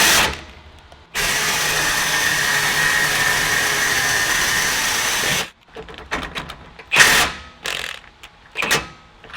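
Air impact gun on the rear axle nut of a Nissan 350Z, a loud continuous buzzing hammer lasting about four seconds, then scattered clanks, clicks and handling noises close by.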